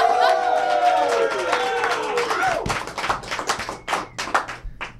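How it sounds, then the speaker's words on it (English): Studio audience on a live fighting-game TV show claps as a returning guest is welcomed, the sparse, uneven clapping sounding like a small crowd, starting under a voice and music, then breaking into separate claps toward the end. "A big applause."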